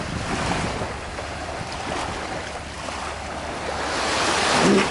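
Atlantic Ocean waves wash onto a Connecticut shore in a steady, broad hiss with wind buffeting the microphone, swelling slightly louder toward the end.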